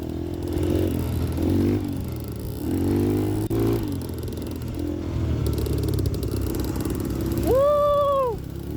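Dirt motorcycle revving and accelerating on a rough mountain trail, engine note rising and falling in bursts with clattering, fairly close and loud, ending in a sharp high rev climb.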